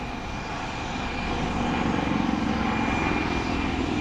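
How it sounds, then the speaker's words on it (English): A light combat helicopter (LCH) flies at the Aero India air show in Bengaluru, a steady loud engine and rotor roar that swells slightly as it moves away after stall turns. "This beauty, the light combat helicopter, surely teases as it goes away."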